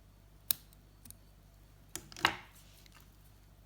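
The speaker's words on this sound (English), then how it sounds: "I'm just going to trim that off" Scissors trim a zonker strip during fly tying for a white rabbit streamer, producing a few sharp, quiet snips spaced across a near-silent indoor background.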